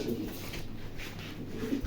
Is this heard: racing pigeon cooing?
yes